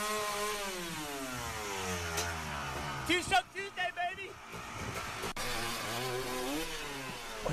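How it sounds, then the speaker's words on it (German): A riderless motorcycle runs on its own, its engine revving up and down in rising and falling whines, with a voice speaking over it and short bursts of louder engine noise midway. "Sehe ich das gerade richtig oder läuft das Bike, obwohl keiner drauf sitzt?"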